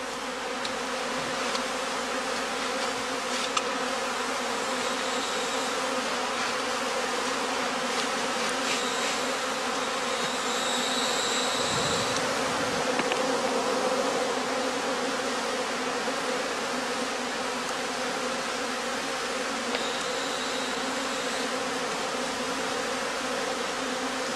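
Honey bees buzz densely and steadily around traditional straw skep hives on the heathland of northern Germany, a continuous close swarm drone with individual bees passing nearer now and then.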